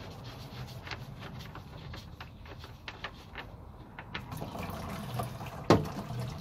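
Engine oil drains from the plug of a Volvo D13/D16 or Mack MP8/MP10 truck engine into a container. The faint, steady trickle and splash is heard close by, with small knocks and one sharp clank near the end.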